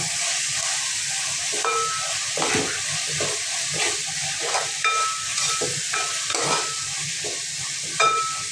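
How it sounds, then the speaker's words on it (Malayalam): Ginger garlic paste sautéing in a pan for a Kerala-style chicken curry makes a steady, close hissing sizzle, broken by scraping stirs and occasional spatula clinks against the pan, with no talk. "ഒരു വലിയ കഷ്ണം ഇഞ്ചി പത്തല്ലി വെളുത്തുള്ളിയുടെ അരച്ച ഗാർലിക് പേസ്റ്റ് നന്നായിട്ട് വഴറ്റണം"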